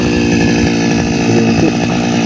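A gas grass cutter runs continuously up close, a loud steady two-stroke engine drone with rough buzzing texture, used to clear weeds around an ampalaya (bitter gourd) trellis in a farm plot.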